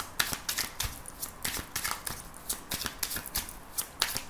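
Tarot cards being shuffled and cut by hand, a close series of crisp riffling flutters and sharp slaps in an irregular rhythm, with no talking.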